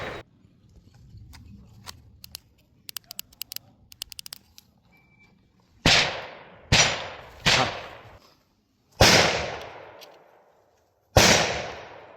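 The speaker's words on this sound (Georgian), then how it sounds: "ეხლა ამას დავაყენებთ იარაღზე, ვისვრით, რაც შეიძლება მეტს" Five sharp, loud rifle shots from a 5.56 platform ring out at an outdoor range, each with a quick echoing decay, irregularly spaced after a stretch of quiet handling clicks.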